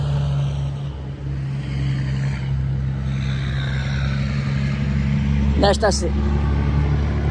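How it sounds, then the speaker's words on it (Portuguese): A noisy truck approaches and passes along a road in the small salt-works town of Saltville, a steady low rumble filling the whole stretch, while a voice is briefly heard near the end. "É um caminhão que está vindo ali. Deixa ele passar com esse barulho dele."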